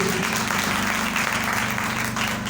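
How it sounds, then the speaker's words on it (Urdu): A church congregation claps loudly and rhythmically together, close and energetic, the hand claps falling in a fast regular beat that carries on without a break under a faint murmur of voices. "آئے ہم خدا کے پاک روح کے لیے زوردار تالیاں بجاتے ہیں۔"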